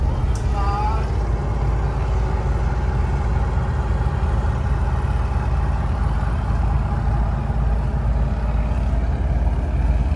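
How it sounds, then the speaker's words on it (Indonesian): A fishing boat's engine runs steadily on a river, a continuous loud mid-pitched drone with no break, the throb holding even from start to end. "Stop mesin."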